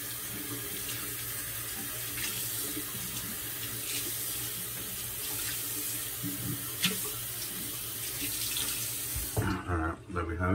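A shaving soap puck is rinsed under a running tap, a steady close splash of water that stops abruptly near the end and is followed by a few handling knocks.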